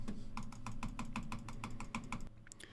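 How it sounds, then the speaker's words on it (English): Rapid computer keyboard clicks tap out at an even pace, recorded through a Shure MV7 microphone, close and fairly quiet over a low hum, with no talking. "And of course, keyboard clicks without me talking."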